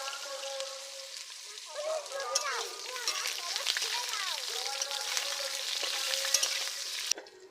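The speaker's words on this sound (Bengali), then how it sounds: "কেটে রাখা পটলগুলো দিয়ে দিচ্ছি তেলের উপর।" Sliced pointed gourd (potol) sizzles steadily in hot oil in a kadai, a dense continuous hiss running the whole time, with a soft melodic music line underneath.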